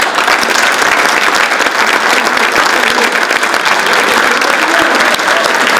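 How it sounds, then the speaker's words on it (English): Sustained applause fills a banquet hall, steady and loud from start to finish with no clear breaks. "Let's give another applause to our sponsors,"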